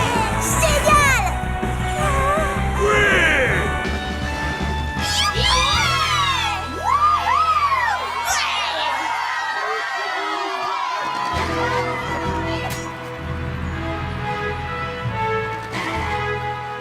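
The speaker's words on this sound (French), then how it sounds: "veuillez applaudir bien fort la délégation de Bonnéville" Cartoon crowd at a pony games ceremony cheers, whoops and yells with children shouting, loud and busy with overlapping voices, easing to a lower murmur in the second half.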